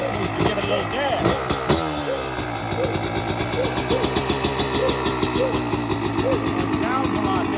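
Revving bursts rise and fall over the steady, raspy buzz of a 2020 Yamaha YZ125X two-stroke dirt bike engine running up close, with repeated throttle blips.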